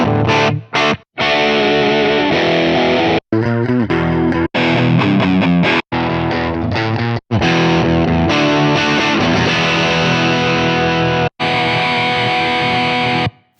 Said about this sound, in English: this guitar that I just recorded can be processed because it's DI'd using the Helix plugin